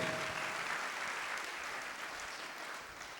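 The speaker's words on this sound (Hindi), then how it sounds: "जोर से ताली बजाकर हम प्रभु को धन्यवाद दे, ताली बजाकर धन्यवाद दे।" Congregation at a Catholic prayer service clapping loudly in thanks to God, a dense, steady wash of many hands sustained throughout at an even level, with no voices standing out.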